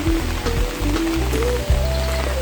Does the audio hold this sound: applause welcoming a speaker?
no